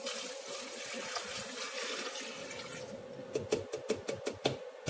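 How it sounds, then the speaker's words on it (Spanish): Milk is poured into a Mambo food processor jug, a steady liquid rush that thins into a few gulping splashes near the end, close and alone. "vamos a añadirle el litro de leche"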